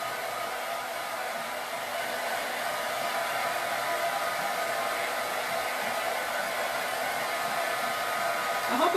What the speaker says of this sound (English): I'm going to use just a regular blow dryer to speed up the drying process